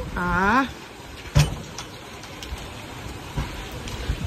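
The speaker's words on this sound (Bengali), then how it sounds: "আজকে বাইরে বৃষ্টি হচ্ছে" Heavy rain falling outdoors, a steady broadband hiss running throughout with a few sharper drips or knocks, heard from nearby after a brief voice at the start.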